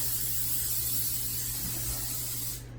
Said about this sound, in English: Just a quick spray.